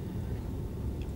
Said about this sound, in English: I just didn't feel like shutting off the heating system for this recording.